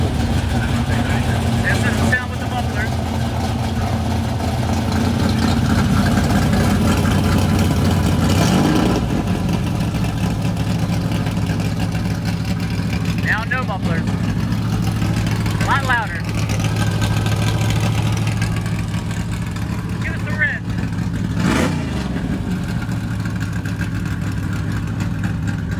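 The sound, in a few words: 1969 Z28 Camaro engine idling with mufflers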